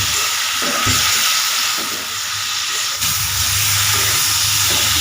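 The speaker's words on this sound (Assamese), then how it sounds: "এতিয়া আলু আৰু কচুটো দি ল'লোঁ এতিয়া ধুনীয়াকৈ ভাজি ল'ম" Potatoes and taro fry in a pan with a steady, close sizzling hiss that holds for the whole stretch, a low rumble underneath and a brief dip partway through.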